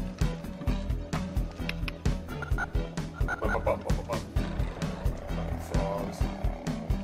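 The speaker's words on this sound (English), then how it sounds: "Frogs." Frogs croak in the video game The Horde, a steady pulsing chorus of repeated low croaks set against a looping game soundtrack.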